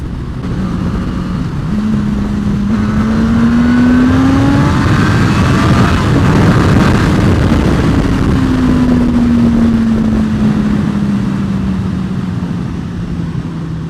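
Suzuki GSX-S1000F motorcycle engine pulling through its low RPM range, a loud close steady drone whose pitch swells upward then slowly sinks as the bike rides on, no speech.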